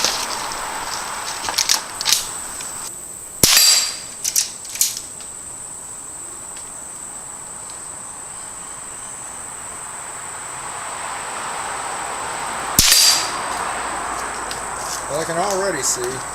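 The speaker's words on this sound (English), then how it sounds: "we're going to fire about 3 rounds down here and see where it's at" Two sharp, loud rifle reports from a Henry Frontier Long Barrel ring out several seconds apart over a steady chorus of crickets, with brief clicks and handling noises between.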